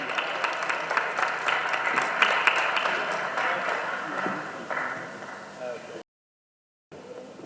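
A crowd at a Multan mushaira poetry gathering applauds a poet's arrival with dense, continuous clapping that fades down and then breaks off into brief silence before faint room sound returns.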